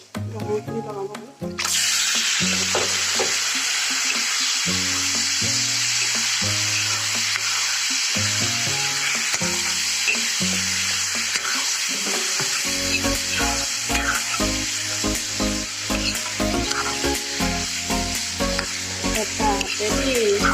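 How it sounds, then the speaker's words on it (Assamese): Pork frying in a pan with spices, a loud continuous sizzle under frequent clattering stirs of a spatula, while a person talks over it through much of the clip. "গাহৰি মাংস ভাজি বনাইছোঁ।"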